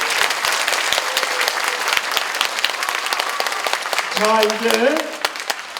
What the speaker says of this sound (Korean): 우리 수고했다고 박수 한번 쳐주셔야 돼요.